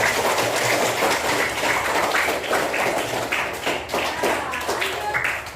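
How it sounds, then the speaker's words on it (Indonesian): A classroom of students claps for a presenting group, brisk and energetic applause from many hands that holds steady for several seconds before easing slightly toward the end. "tepuk tangan dong buat kelompok"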